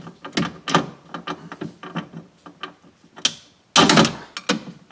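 Series of quick ratcheting clicks from a socket wrench working a window regulator bolt inside the door of a 2015 Honda CR-V, close and crisp, in short irregular bursts with pauses.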